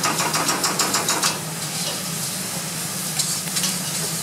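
Peeled tomatoes are stirred into a sizzling pan for bolognese sauce, giving a steady close sizzle. Rhythmic scraping stir strokes are heard in the first second and a half.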